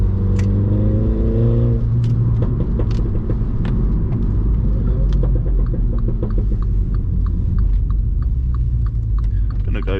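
Mini JCW engine rumbles steadily as the car drives through ice and snow, a continuous loud low drone throughout with faint clicks and thumps on top.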